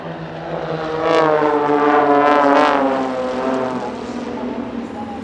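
A propeller-driven aerobatic aircraft at an airshow performing a very slow roll, its engine drone swelling loud and near, holding, then gradually easing as it passes, with a steady harmonic buzz throughout.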